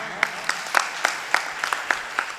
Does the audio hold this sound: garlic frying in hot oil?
no